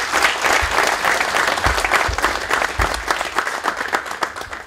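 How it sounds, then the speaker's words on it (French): A forum audience at Davoc 2012 applauds its volunteer helpers: dense, steady clapping from many hands that stays loud and even for its whole length, with no voices over it. "j'aimerais bien qu'on applaudisse pour ça"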